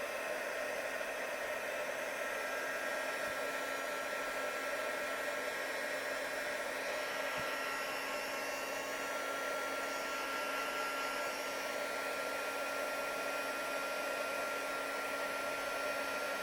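A heat gun blows a constant, loud whooshing roar while melting embossing powder on a handmade card, steady and unbroken throughout with no speech.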